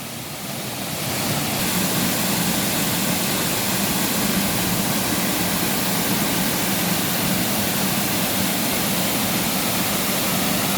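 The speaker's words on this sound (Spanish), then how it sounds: "Miren la cascada de La Victoria." La Victoria waterfall in Caridad Valle, running at full flow, gives a loud, steady roar of falling water that rises in over the first second and then holds unbroken and close.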